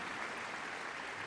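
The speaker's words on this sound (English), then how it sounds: "Let's give them a big round of applause," Audience applause in the arena at Crufts 2023 after a medical detection dogs display, a steady dense wash of clapping throughout, fairly faint and with no one speaking.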